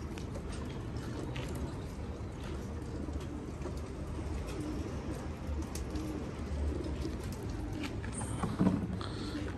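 Homing racing pigeons cooing on a rooftop loft, soft low coos repeating steadily over a constant outdoor background hum, with no talk.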